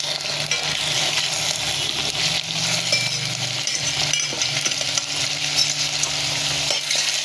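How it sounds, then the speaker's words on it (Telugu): Mushrooms frying in oil with onions and green chillies for a mushroom curry, giving a steady, close, continuous sizzle with occasional stirring scrapes and clinks throughout. "ఇప్పుడు మష్రూమ్స్ వేసుకుందాం"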